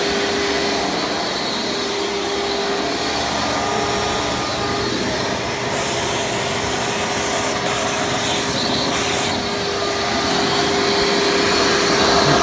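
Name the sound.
Hoover Preferred Elite U5093-940 upright vacuum running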